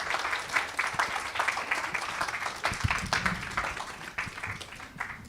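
A congregation applauds together at a church service, a dense, steady wash of many hands clapping near and loud throughout.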